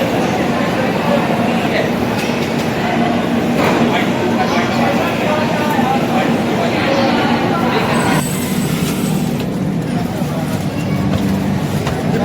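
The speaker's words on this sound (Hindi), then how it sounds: "डिपार्चर ले रही है Dibrugarh Rajdhani express Lucknow Charbagh railway station." The Dibrugarh Rajdhani Express pulls out of Lucknow Charbagh railway station, its loud rumble and rolling wheel noise continuous and close, with station chatter and talk mixed in.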